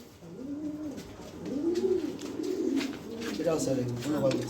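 A pair of large blue barless pigeons coo in repeated soft, rolling phrases, close by, with someone talking over them.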